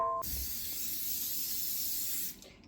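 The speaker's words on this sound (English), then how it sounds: "Bit of spray of olive oil." A steady, hissing spray of olive oil onto a grill pan lasting a couple of seconds, close by, preceded by a brief clink, then cutting off.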